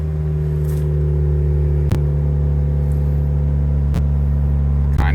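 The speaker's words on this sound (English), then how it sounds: "It's idling about where it should be" Toyota Yaris with a 2AZ engine and new throttle body idles steadily close by, a constant low hum with faint clicks at intervals and no talking.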